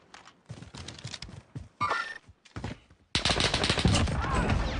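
Warzone video game gunfire, rapid bursts of automatic shots in choppy clusters early on, then a dense sustained barrage of loud firing to the end.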